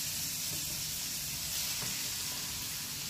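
All-purpose cream poured into a hot pan for carbonara, a steady close sizzle and frying hiss running evenly throughout with no talk.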